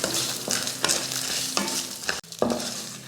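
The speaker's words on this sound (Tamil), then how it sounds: "இந்த டைமில் கொஞ்சம் கருவேப்பிலை, ஒரு 6 போல் வரமிளகாய், கொஞ்சமாக புளி, இதையும் சேர்த்து வறுத்துக்கலாம்." Dry-roasting lentils tossed with curry leaves, about six dried red chillies and a bit of tamarind in a pan, with steady scraping stirs and a soft crackle, several distinct stirring strokes up close, no voices.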